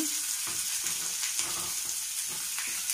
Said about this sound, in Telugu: కరివేపాకు దీన్ని లైట్గా ఫ్రై చేసుకోండి